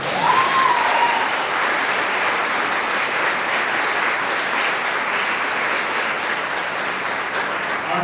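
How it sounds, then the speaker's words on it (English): Sustained applause from an audience at an 8th grade graduation, clapping steadily for Beta Club members standing up, dense and even throughout with a brief whistle-like tone near the start. "You can give them a round of applause."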